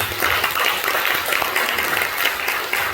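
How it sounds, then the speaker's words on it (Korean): Sustained applause from a church congregation honoring a missionary at a Korean worship service, dense steady clapping filling the room throughout without pause. "다시 한번 큰 박수를 보내드립니다"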